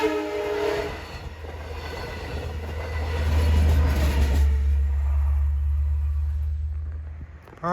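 A train rumbles past Locust Avenue with a loud, steady low roar that swells toward the middle and fades near the end, with rail noise throughout.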